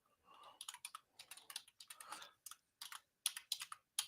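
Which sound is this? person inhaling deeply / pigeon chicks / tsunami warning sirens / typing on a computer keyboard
typing on a computer keyboard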